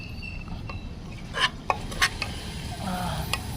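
Rice and chicken curry are mixed by hand on a plate, giving a few soft, close clinks and scrapes against the plate over a low background hum.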